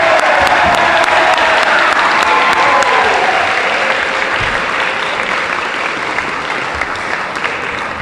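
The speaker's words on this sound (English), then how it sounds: "Please applaud Ian Bissonnette." An audience at a school spring athletic assembly applauds loudly and steadily, sustained clapping from a large crowd that tapers slightly toward the end, with no speech over it.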